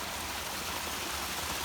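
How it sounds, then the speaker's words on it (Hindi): Monsoon rain falls steadily in the Himachal mountains near Manali, a dense even hiss of close rainfall with no voices. "बारिश हर तरफ हो रही है।"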